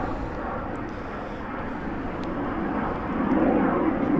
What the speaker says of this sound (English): Some kind of fighter plane.